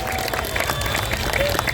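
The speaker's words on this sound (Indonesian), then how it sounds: "Tepuk tangan buat mereka yang datang dari jauh." Crowd applause at an outdoor campaign rally in Jakarta, a dense, steady wash of clapping and crowd noise with faint voices mixed in, moderately loud throughout.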